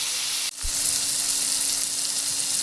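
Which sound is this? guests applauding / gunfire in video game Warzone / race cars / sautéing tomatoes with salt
sautéing tomatoes with salt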